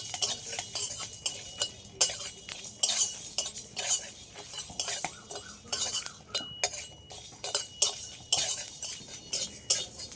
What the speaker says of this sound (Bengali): কিছুটা গোলমরিচ আর জিরে নিয়েছি এটাও দিয়ে দেবো এগুলো সব একসাথে আর একটু ভেজে নেবো